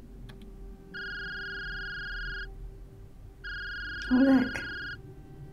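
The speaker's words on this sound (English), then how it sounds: "The phone's ringing." A phone rings in two long electronic bursts in a quiet indoor scene, and a voice speaks briefly during the second ring.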